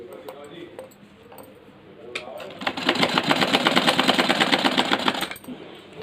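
Sewing machine stitching a corner seam on old denim jeans being remade into a bag, a quiet stretch and a few clicks before a steady, fast, loud run of needle strokes lasting a few seconds, then stopping.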